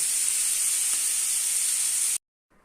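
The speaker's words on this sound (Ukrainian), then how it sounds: "Так цибульку і перчик трошки підсмажити" Onion and pepper sizzle loudly in a not-yet-hot frying pan, a steady close hiss for about two seconds before cutting off abruptly into near silence.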